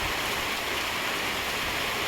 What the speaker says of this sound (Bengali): দেখো সকালে উঠেই দেখে বৃষ্টি পড়ছে কাল রাত থেকেই পড়ছে